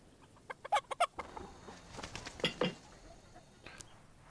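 A hen clucking in the video game Book of Hours, a quick burst of sharp clucks followed by scattered softer clucks and one last call, fairly faint and alone.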